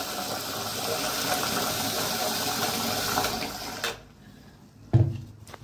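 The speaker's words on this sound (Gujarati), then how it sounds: "હવે આપણે બધું ધોઈ નાખશું, 2 પાણીએ ધોઈ નાખશું" Water sloshes and pours steadily as soaked rice and lentils are washed for dosa batter, then the flow cuts off, followed by a single splash near the end.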